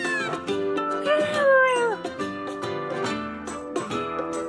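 Cat-like Pokemon cries from Pokemon Sun, a series of high, sliding meow-like calls with warbling pitch bends, played several times in quick succession at moderate volume.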